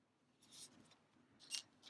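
Scissors snip through crochet yarn on a handmade unicorn amigurumi, two or three quick, crisp close-up cuts with quiet pauses between them.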